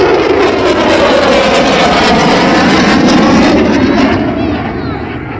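A Eurofighter Typhoon jet roars past at very close range during an aileron roll at the Southport airshow, a loud, dense engine rumble that holds steady and then begins to fade toward the end.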